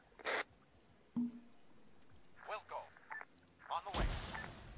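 A frag grenade goes off in Arma 3 as a single sharp blast near the end, after scattered clicks, faint pops and bursts of voices on comms.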